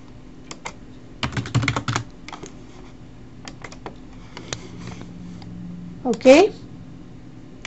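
A folder name is typed on a computer keyboard in short bursts of quick, close key clicks with pauses between them, and a brief spoken word near the end.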